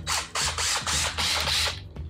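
A power drill with a dryer vent cleaning attachment runs in short bursts, a whirring, ratcheting mechanical buzz stopping and starting about five times.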